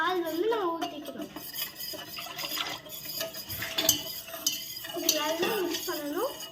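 Milk mixture for kunafa being stirred in a metal pan, with spoon scraping and clinking against the sides in steady rhythm under a voice talking throughout.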